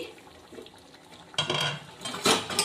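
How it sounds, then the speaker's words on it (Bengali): Lid being lifted off a pot of watermelon rind curry after 7-8 minutes of simmering, making a brief metallic clatter and scrape followed by louder clinks of cookware, close and clear with no talk. "7-8 মিনিট হয়ে গেছে, আমি ঢাকনাটা খুলছি।"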